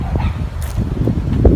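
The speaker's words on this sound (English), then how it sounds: "I hear some dogs barking out there." Dogs barking somewhere outside near abandoned summer houses in a beach forest, a few short yips and barks at a distance over rustling outdoor ambience.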